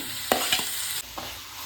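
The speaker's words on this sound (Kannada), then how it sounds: "ನಾನು ಏನು ದೊಡ್ಡದಾಗಿ ಟೊಮೆಟೊನ ಹೆಚ್ಚಿಟ್ಕೊಂಡಿದ್ದೀನಿ ಅದನ್ನು ಹಾಕೋತಾ ಇದ್ದೀನಿ." Roughly chopped tomatoes dropping into a hot pan with a few sharp clatters, then a steady sizzle of frying for baby corn masala.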